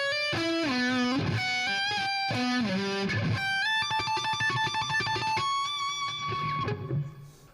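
A distorted electric guitar plays a fast lick from an EP, with sliding bends, then a quick run of picked notes climbing into a held, vibrato-laden high note that cuts off.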